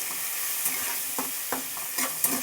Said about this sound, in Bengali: এবার আরেকটু নেড়ে নিচ্ছি।